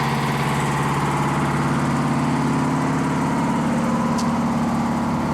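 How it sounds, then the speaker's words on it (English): A generator aboard a 1982 MCI MC9 tour bus runs at a steady idle, a loud, even mechanical drone with a fine pulsing rhythm that holds unchanged from start to finish. "Got a generator in here. This powers all my electrical things."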